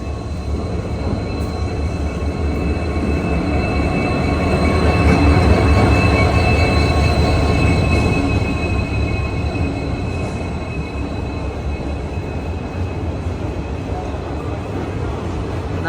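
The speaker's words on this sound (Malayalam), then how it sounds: "train number 15670 Dibrugarh Guwahati Nagaland express Dimapur railway സ്റ്റേഷൻ്റെ 1-ാം നമ്പർ" The Nagaland Express, train 15670 from Dibrugarh to Guwahati, rolls into platform 1 at Dimapur station with a loud, continuous rumble of wheels and faint squeals that peak midway.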